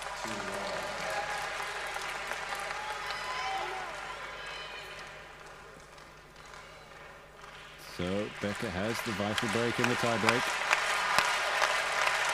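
A tennis crowd applauds Becker during a tiebreak in a 1992 Brussels final against Courier. A commentator talks throughout, and the applause swells toward the end.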